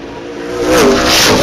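Super late model race cars accelerating around an oval track, a loud, continuous roar of several engines that swells midway and stays strong.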